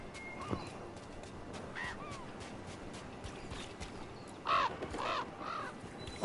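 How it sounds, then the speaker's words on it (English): A crow caws in the video game Dragon Age: The Veilguard. A few scattered caws come first, then a louder pair of harsh calls near the end over a soft outdoor ambience. "Is that a crow?"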